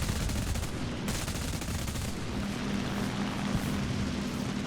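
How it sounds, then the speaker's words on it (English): A .50 cal machine gun in War Thunder fires in dense, continuous rapid bursts amid battle noise, loud and sustained for the whole stretch, with an aircraft engine drone underneath. "It's a 50 cal I can hear going off"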